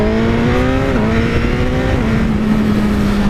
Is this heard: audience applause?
no